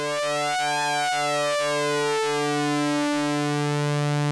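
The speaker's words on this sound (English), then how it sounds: "So when I turn up the amount knob, we start to hear the modulation take effect, creating a classic oscillator sync sweep sound." Repro-1 synthesizer with oscillator sync swept by an LFO: a loud, steady buzzy tone whose bright harmonics pulse and sweep in a regular rhythm, then settle into a sustained note near the end, with no talking.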